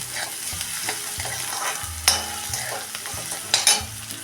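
Onion sautéing in a pan until pink gives a continuous close sizzle, broken by repeated scraping stirs and a few sharp spatula clicks against the pan.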